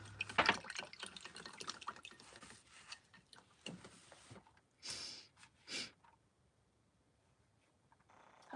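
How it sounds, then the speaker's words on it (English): Paintbrush being swished and rinsed in a water jar, faint close splashing and dripping in short irregular bursts that fade into near silence. "I need to wash that brush."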